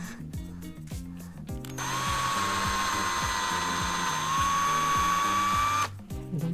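A drill drives a screw into a wooden board while building a loom, its motor whining steadily for about four seconds between quieter rhythmic background sounds.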